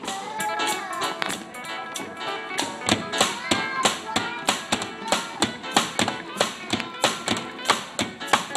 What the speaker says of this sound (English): The snare drum takes center stage and defines the tempo on beat 2 and 4.